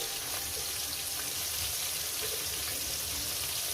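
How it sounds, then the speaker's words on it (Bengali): Fish frying in a pan of hot oil for a Bengali fish curry, a steady close sizzle and crackle running throughout with no talk. "এইভাবে মাছগুলো ভাজবেন দেখবেন সুন্দরভাবে ঝরঝরেভাবে মাছগুলো উঠে যাবে"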